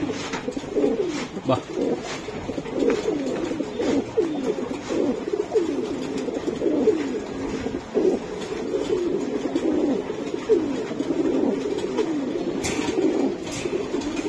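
Racing pigeons coo repeatedly in soft, throaty bursts at a loft, a dense overlapping chorus close by, while people talk over them now and then.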